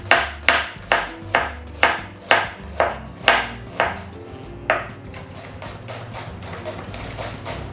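Knife shredding an onion on a cutting board for coleslaw: about a dozen crisp, evenly spaced chops close up, then a quieter stretch of faint background noise.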